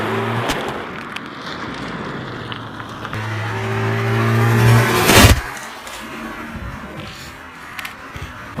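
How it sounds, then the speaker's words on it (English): A car engine revs and rolls slowly over a Samsung Galaxy S6 Edge phone, with low rumbling, a louder swell as the car passes, and a sharp crunch near the end. "how it fares against a car running it over"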